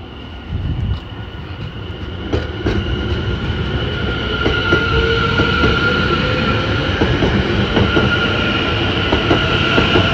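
A Greater Anglia class 720 electric multiple unit, 720521, pulls into Cheshunt station and leaves again for Bishops Stortford, giving a steady, close rolling rumble with wheel clicks and a rising motor whine that holds loud to the end.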